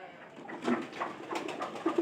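Pigeons coo softly at close range, a few low, rounded coos rising and falling over a quiet background, with no speech.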